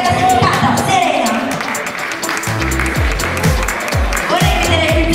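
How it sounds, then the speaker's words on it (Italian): Audience applause greets the third-place finisher at a Miss Reginetta d'Italia regional beauty pageant. Steady clapping from a crowd lasts throughout, with music and voices mixed beneath it. "Un applauso per la terza classificata, Serena."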